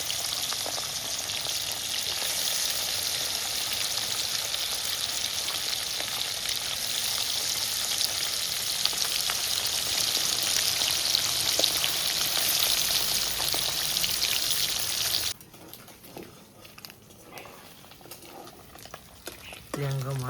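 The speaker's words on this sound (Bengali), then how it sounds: "তেল গরম হয়ে গেছে, মাছ দিয়ে দিচ্ছি।" Freshwater beel fish fry in hot oil in a wok with a loud, close, continuous crackling sizzle for most of the stretch, which then cuts off abruptly to quieter kitchen background.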